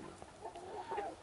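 A rooster gives a few short, low clucks, close but fairly quiet, inside a farmyard setting.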